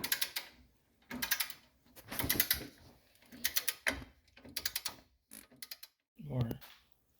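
A torque wrench ratchets in repeated bursts of quick clicking on the sway bar end link of a 2003-2008 Subaru Forester, close and moderately loud, with short pauses between strokes.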